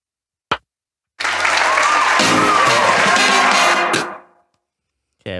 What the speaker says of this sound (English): just clapping and cheering and everything.